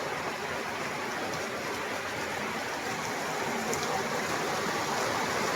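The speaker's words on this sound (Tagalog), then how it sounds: "Lakas ang ulan." Heavy rain pours down in a steady, dense hiss, unbroken and fairly close, with no voices over it.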